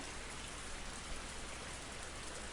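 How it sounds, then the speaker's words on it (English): Quiet rain in a visual novel game, a soft, even hiss of falling drops spread across the whole stretch, faint and unbroken, with no voices. "The rain continued to fall quietly, prominently dyeing the earth before vanishing into it."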